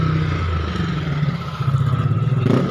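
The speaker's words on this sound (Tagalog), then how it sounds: "Ayun, may motor." A motorcycle passing on a village street at night, its mid-pitched engine droning steadily close by with a slight rise toward the end.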